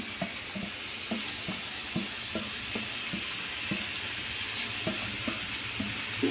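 About a quarter kilo of grated beetroot sautéing in ghee for beetroot halwa, a constant bright sizzle with regular light spoon stirs tapping and scraping the pan throughout, close up and without talk.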